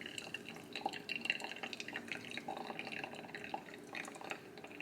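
Boiled water drains slowly through decaf coffee grounds, a soft, steady patter of drips and trickling liquid that stays quiet and close, with no talking.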